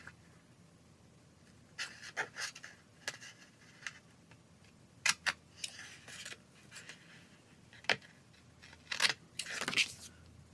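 A pair of scissors trims a small overhanging paper edge on a creative journal page, giving several short, close snips and paper rustles in a quiet room, with no talking.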